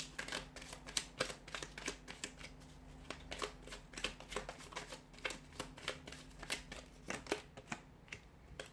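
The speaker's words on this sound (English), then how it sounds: "So we'll give the cards a shuffle here." Close, quiet shuffling of a deck of Angel Answers oracle cards, a long series of soft, sharp riffling snaps and flicks in an uneven rhythm, with no voices.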